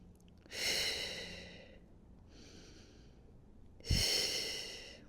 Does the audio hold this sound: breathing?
yes